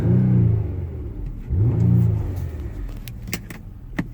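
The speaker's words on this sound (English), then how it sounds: "Let me rev the exhaust a second." 2011 Nissan Maxima SV exhaust revved twice from inside the car, two rising and falling engine swells followed by quieter cabin clicks and rustling.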